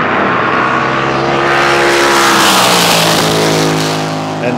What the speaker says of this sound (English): I'm about 30 metres from a blown injected big block